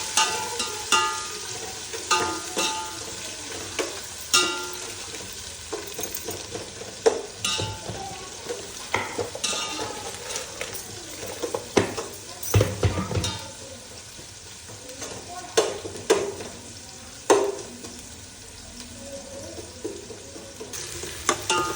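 Onions fry in a pan for fish biryani: a continuous close sizzle runs throughout, broken by frequent clattering stirs and scrapes of a spoon against the pan.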